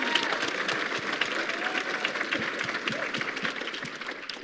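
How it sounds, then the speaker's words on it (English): Audience at a hog farmers' summit gives a round of applause, a steady, fairly dense clapping throughout with faint murmur underneath. "Can we give them a round of applause even before they speak?"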